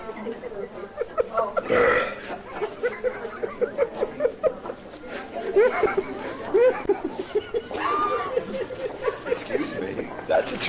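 A man burps loudly and repeatedly in a hotel prank, drawn-out croaking belches mixed with snickers and laughter from others nearby.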